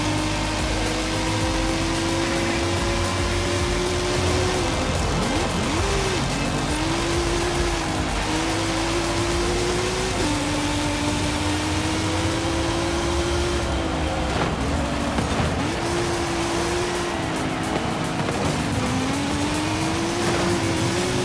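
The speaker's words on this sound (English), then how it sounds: "It's got that high-pitched turbo whine." A racing car engine in Forza Horizon 5 drones continuously with a high-pitched turbo whine that rises and falls with gear shifts, loud and constant throughout.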